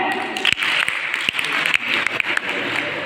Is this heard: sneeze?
no